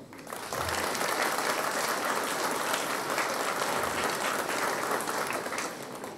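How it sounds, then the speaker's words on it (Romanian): A large crowd applauding steadily at a graduation ceremony, dense clapping that swells in quickly and holds at a loud, even level throughout. "Să-i aplaudăm!"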